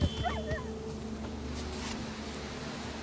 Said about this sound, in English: Oh, this dog hits me every time.